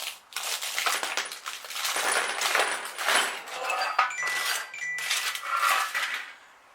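Hot powder-coated lead slugs clinking and rattling as they are poured onto the floor, a metallic cascade of small chinks in several bursts, loud and close.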